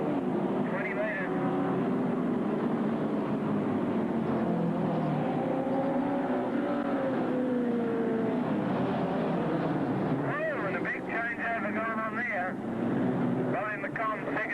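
Race cars lap the dirt oval at Gunnadah Speedway, their engines droning and sweeping up and down in pitch as they pass at a distance, with an announcer talking over the track noise.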